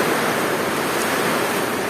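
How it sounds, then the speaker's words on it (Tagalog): Dense, steady hiss of heavy rain pouring down during a thunderstorm, loud and unbroken for the whole stretch. "Tapos ngayon bigla lang bumugso na naman yung ulan."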